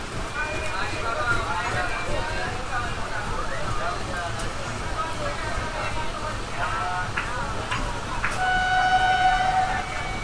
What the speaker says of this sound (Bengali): আমাদের ট্রেন এখন পার্ক হচ্ছে দাসনগর, আর এখানে সুন্দর একটা কার্ভ দেখা যাচ্ছে।